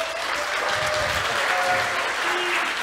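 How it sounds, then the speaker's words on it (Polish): Steady applause from a conference audience fills the room, a sustained even patter of many hands at moderate distance with no voices over it. "bardzo was proszę o gromkie brawa dla Borysa."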